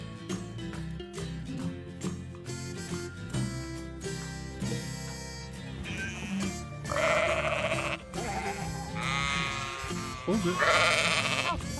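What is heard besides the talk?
sheep bleating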